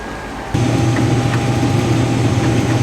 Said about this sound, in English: I need to get some tractor started and warming up.